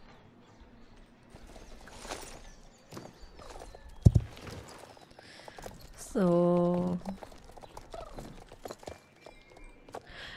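Horses walk with soft clip-clop hoofbeats in the video game Star Stable Online, mixed with game sound effects and a brief loud tonal chime, while a person talks briefly.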